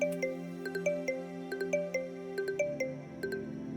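A mobile phone rings with an incoming call, a repeating electronic ringtone melody of short bright notes in a steady rhythm, heard close and alone without talk.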